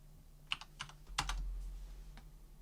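Password typed on a computer keyboard while logging into a Raspberry Pi 4 server over SSH: a short burst of a few quiet, close key clicks, with no one speaking.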